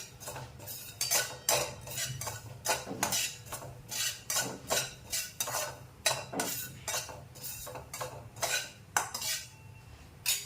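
A spoon scrapes and taps in a pan while one spoonful of poppy seeds dry-roasts, giving a close series of irregular metallic clinks and stirring scrapes with no talk.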